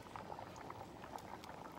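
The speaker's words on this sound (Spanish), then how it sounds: "está hirviendo estamos atizando el fuego" A pot of chicken soup bubbles at a steady boil over a wood fire, a dense, continuous bubbling and popping that stays fairly quiet and even throughout, with no voices.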